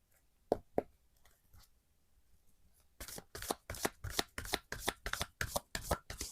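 Oracle cards are shuffled with a few soft taps, a quiet pause, then a steady rapid stream of close riffling shuffles.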